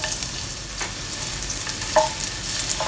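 Thinly sliced ginger sizzles and crackles in hot oil while being stirred in a pan, a steady close frying hiss with a few soft scraping stirs, no voices.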